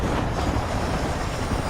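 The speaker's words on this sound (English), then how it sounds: "Why is there always a goddamn train here?" In Red Dead Redemption a train rumbles past loud and close, a dense, steady roar of rolling wheels and carriages that fills the whole moment.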